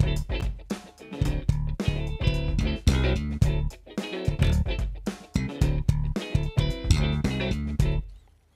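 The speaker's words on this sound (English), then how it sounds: "Very typical for the slap bass playing style." Slap bass in a funk song, punchy thumbed notes and sharp pops over a backing groove, loud and rhythmic before stopping abruptly.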